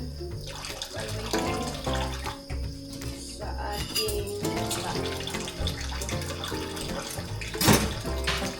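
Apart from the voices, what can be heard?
washing dishes under running tap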